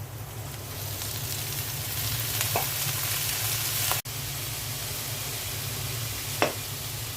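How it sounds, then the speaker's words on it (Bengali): Vegetables tossed with spices in a frying pan, a constant close sizzle with occasional scrape and clank of the spatula, no talk. "এখন সবজিগুলো ভালো করে মশলার সাথে মিক্স করে নিচ্ছি।"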